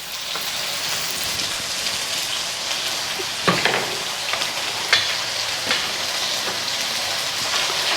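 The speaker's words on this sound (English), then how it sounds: "before the garlic gets cooked, in goes the meat" Meat hits a hot wok with garlic, giving a loud, continuous sizzle that runs through the clip, with occasional scraping clatters from stirring and no talking.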